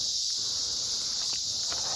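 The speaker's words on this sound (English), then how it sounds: "Now, I know the cicadas are loud, but this is exactly what I was hoping for." Cicadas drone loudly in summer woods beside a river gravel bar, a dense, unbroken high buzz filling the whole moment with faint rustling beneath it.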